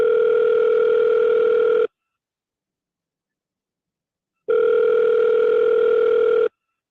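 Telephone ringback tone on an outgoing call before voicemail picks up: two long steady electronic rings about two seconds each, separated by a pause of roughly two and a half seconds, clear and alone.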